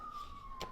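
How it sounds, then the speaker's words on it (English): A faint, distant siren holds a steady wailing tone for under a second, with a little background noise at the end. "I apologize for the sirens in the background."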